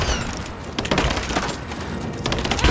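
Dense, continuous gunfire in a Rise of the Tomb Raider firefight, with overlapping cracks and bursts layered over a steady din of combat noise, close and loud throughout.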